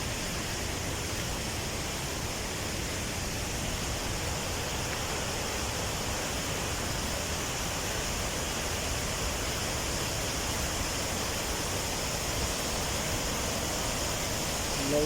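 Deojhara waterfall in the rainy season roars steadily and loudly, a dense unbroken rush of falling water that fills the whole stretch without pause.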